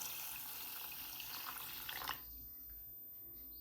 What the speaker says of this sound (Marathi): तर चला आता आपण हे पाणी घालून ठेवूयात